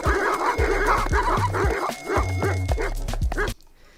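Cartoon attack dogs from an NFT animation bark and yip in quick, loud, closely repeated bursts with a whimpering edge, then cut off abruptly into near silence.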